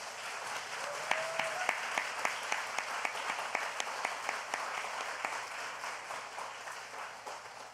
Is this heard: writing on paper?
no